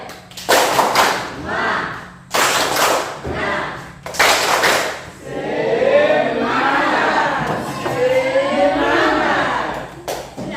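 A group of teachers in a training session performs a rhythmic spirit clap, three bursts of sharp unison claps followed by lively crowd chatter and voices, close and loud.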